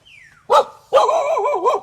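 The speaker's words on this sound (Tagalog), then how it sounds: "Nahabol ako ng aso mo." A dog gives a short bark followed by a longer whimpering, wavering yelp, close and loud, with no talk over it.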